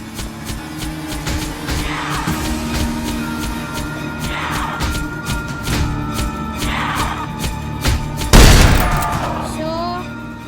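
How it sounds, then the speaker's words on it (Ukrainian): Rapid bursts of rifle gunfire from a video game, several volleys in a row over engine rumble, ending with a loud sharp blast. "вінтовку доставай і стріляй з поїзда"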